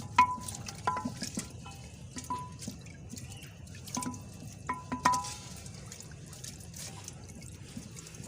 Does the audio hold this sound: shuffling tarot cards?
no